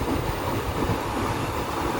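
The Rajya Rani train pulls out of Nilambur railway station, heard from on board as a steady, close, dense rumble of wheels and carriage with no distinct clacks.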